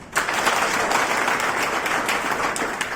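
An audience at a workplace safety campaign meeting claps on a speaker's prompt, a fairly even wash of many hands that starts abruptly and holds steady throughout.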